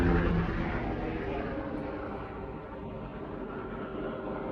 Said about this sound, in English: I'm just gonna wait for this helicopter.